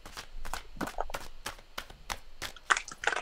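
Tarot cards being shuffled during a reading, a run of quick papery riffles and snaps in irregular bursts, close and moderately loud with no talking.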